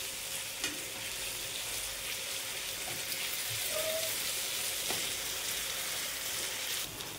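Potato and paneer curry (aloo paneer dum) gently stirred in a pan: a soft, continuous frying hiss with faint occasional scrapes, low in level and steady throughout, with no talking.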